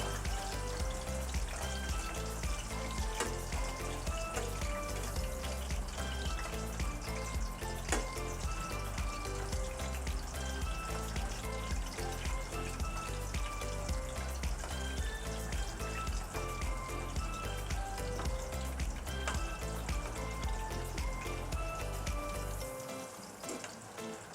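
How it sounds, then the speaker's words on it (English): Green saba bananas fry in hot oil in a wok with a dense, continuous sizzle and scattered pops, close and steady for the whole stretch before cutting off at the end, no talking. "Okay, we continue frying."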